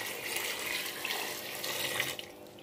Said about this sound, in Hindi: हम लोग इसमें मिलाएंगे पानी